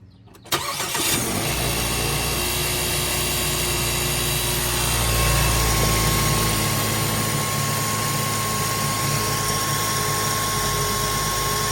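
A Mazda car with problems cranks and fires up after a moment of quiet, then settles into a loud, steady idle with a constant whine and a rough low rumble that swells midway.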